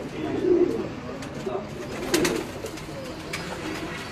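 Blue pigeons coo on a rooftop in soft, repeated low calls, fairly close, with faint background noise around them.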